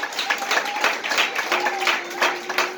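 Applause from an audience at a dance event, continuous clapping with a crowd murmur running under it, with a faint tone sustained behind the clapping.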